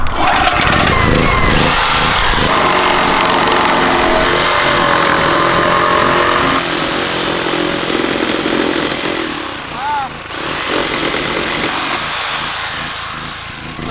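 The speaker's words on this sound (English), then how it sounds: "I think jigsaw's the tool for that." A jigsaw cuts through a section of wood for a large skate roll-in, a loud, rough buzzing saw running close and continuously before easing off, with brief voices near the end.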